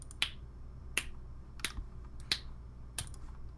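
Five crisp finger snaps or claps ring out at roughly even intervals, close and clear over a quiet, faintly humming background with no talking.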